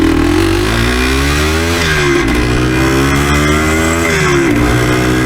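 A Yamaha DT360 two-stroke motorcycle pulls away from a dead stop under load, its loud, close engine note climbing through the revs with harmonics that rise, dip at a shift and climb again, with no talking.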